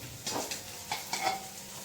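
Cooked, crumbled rice going into a pan of frying chicken fried rice, with soft sizzling and a few quick stirring scrapes, faint and close.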